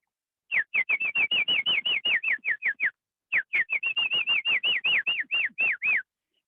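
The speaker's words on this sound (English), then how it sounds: "This is a scarlet rump cacique." A scarlet-rumped cacique in Panama gives two long runs of rapid, evenly spaced whistled notes, each a bright rising-and-falling chirp, loud and close, with a brief pause between the bursts.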